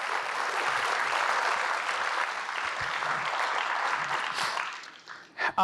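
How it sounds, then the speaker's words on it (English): An audience at a Long Beach civic event applauds, a fairly soft, even wash of clapping that holds steady before thinning out into a few final claps. "Let's give everyone a big round of applause for their work."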